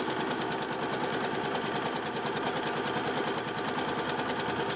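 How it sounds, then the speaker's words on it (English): A sewing machine runs a straight stitch along fabric, a fast even mechanical rattle of the needle going continuously and close with no pauses or talking. "I'm going to go ahead and start my stitching now, just using a straight stitch to simulate the roping"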